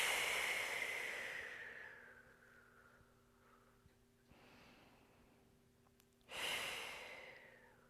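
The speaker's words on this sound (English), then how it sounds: "Take a big breath in and out, just let gravity do its work." Slow, deep breaths during a yoga hip stretch before final resting posture: a long airy exhale fading out, a softer breath in the middle, then another strong breath near the end, close and quiet with no talking.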